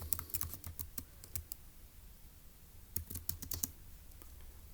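A computer keyboard being typed on in two quick bursts of light, crisp key clicks, with a short quiet gap between them, close and fairly soft.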